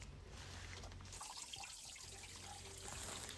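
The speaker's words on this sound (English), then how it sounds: "This water runs into the pond." Stream water trickling steadily into an ancient pond outdoors, a continuous soft wash with a low hum underneath and no talking.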